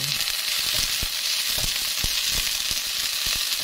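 Galangal, bay leaves, chillies and a few soybeans sautéing in hot oil, a dense continuous close-up sizzle with soft ticks and scrapes of stirring, no voices.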